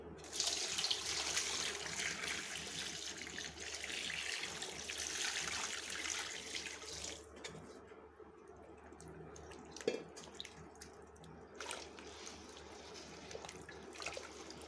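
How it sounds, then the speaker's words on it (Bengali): Water pours into a cooking pot over bay leaves and cardamom for beef trotter nihari, a steady splashing stream that runs loud for several seconds and then thins to trickles and drips. "একটু বেশি পরিমাণে পানি দিয়ে দিচ্ছি।"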